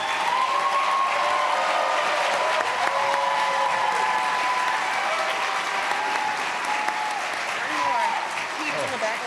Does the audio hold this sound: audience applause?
yes